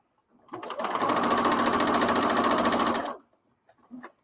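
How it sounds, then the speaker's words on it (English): Sewing machine chain-piecing quilt pieces with right sides together, one loud, steady run of rapid stitching lasting a few seconds, very close, followed by a couple of faint clicks. "just start sewing a chain"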